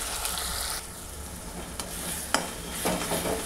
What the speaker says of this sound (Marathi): ते मी या तेलामध्ये छान असं फ्राय करणार आहे.